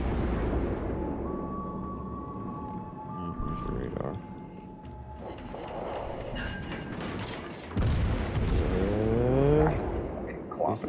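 Naval gunfire in World of Warships: Legends around a Wichita cruiser, with heavy booms and rumbling shell impacts under engine and water noise, growing louder toward the end while someone talks.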